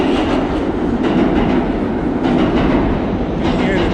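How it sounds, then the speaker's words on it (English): F subway train rumbling below a busy three-lane New York City boulevard, a steady low roar with faint rhythmic clatter filling the whole stretch beneath street noise. "You hear the train running below. Should be the F train right there."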